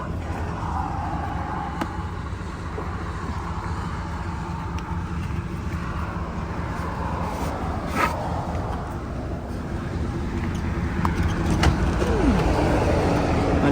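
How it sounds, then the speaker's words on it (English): A Klein tow truck pulls up outdoors, its engine a steady low rumble that grows slightly louder toward the end, with faint passing-traffic noise and no talking. "there's somebody else pulling up in a Klein tow truck"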